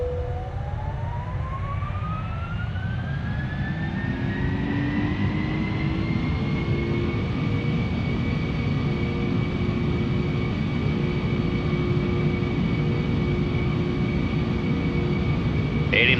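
Simulated Boeing 747-400 jet engines spool up for takeoff in Flight Simulator X, a steady loud whine climbing in pitch over a dense low roar that holds for the full length.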